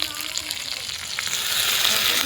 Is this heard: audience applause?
no